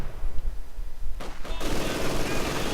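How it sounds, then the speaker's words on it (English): Heavy machine gun fire in a real-time strategy game battle against conscript infantry, a dense rattling burst that erupts suddenly partway through and keeps going loud over rumbling background battle noise. "the conscripts right there coming under intense fire from the heavy machine gun"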